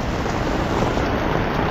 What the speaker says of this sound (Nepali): असिना चाहिँ ठुलो मात्रामा परिरहेको तपाईँ देख्न सक्नुहुन्छ